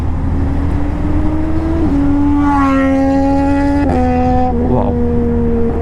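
A Yamaha FZ X motorcycle engine runs close by, revving up through rising and falling pitch sweeps with a brief drop and recovery, loud and continuous with no voice over it.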